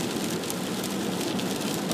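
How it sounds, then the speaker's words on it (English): Rain pouring onto a road, heard as a steady broadband hiss with faint low vehicle rumble beneath, constant and fairly soft throughout without talking. "It's because it's raining."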